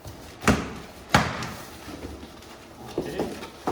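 A QNAP QHora-301W router box is torn open: two sharp thuds and ripping of cardboard packaging, close and moderately loud, then a few softer bumps and rustles.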